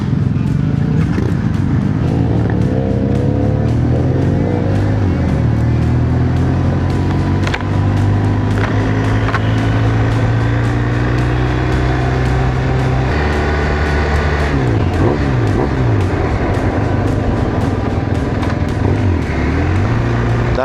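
A motorcycle rides along a road in Mindanao, its engine droning steadily and loudly throughout with shifting pitch as it speeds up and slows, close and continuous with wind noise.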